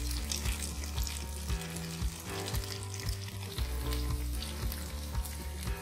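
Cubes of tofu fry on medium flame in a pan for sweet and sour tofu with broccoli, giving a steady, close sizzle with repeated stirring scrapes and clinks throughout, no talking.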